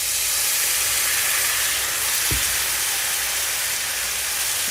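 Reserved pasta water steaming off in a hot pan while making penne chicken limone, a loud, steady broadband hiss with one brief low thump midway.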